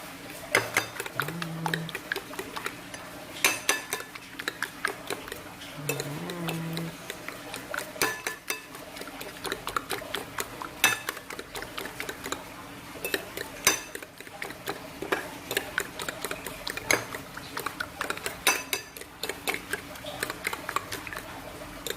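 Eggs mixed with sardines being beaten in a bowl with a utensil, giving a steady run of quick, light clinking and tapping strokes close by, with brief low tones now and then and no talk over it.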